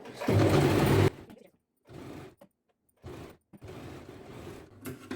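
A sewing machine runs in short bursts while stitching blouse cloth, with a loud whirring run at the start and then several shorter stitching runs separated by pauses, close by.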